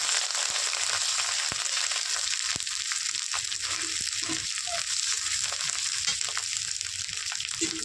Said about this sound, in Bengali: এবার আমি আদা বাটা দিয়ে দিলাম, দিয়ে ভালো করে মশলার সঙ্গে কষিয়ে নিই